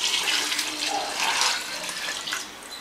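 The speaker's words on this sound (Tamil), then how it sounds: "அதனால் 8 டம்ளர் தண்ணி ஊற்றுறோம்." Water pours steadily into a pressure cooker pot while mutton biryani with seeraga samba rice is being made, a close, loud rushing splash that surges and eases slightly before tapering off.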